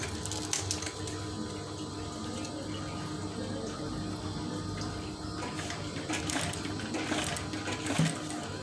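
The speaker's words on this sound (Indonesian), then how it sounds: "Terus kita jahit." Sewing machine stitching curtain fabric, a close, steady mechanical whir with rapid needle chatter that runs continuously, with no talk.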